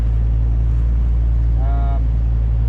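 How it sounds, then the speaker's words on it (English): A sailboat's inboard engine runs with a loud, steady low drone and a brief rising tonal whine partway through, while the motor struggles with repeated cutting out. "we're having some serious issues with the engine. It keeps cutting out."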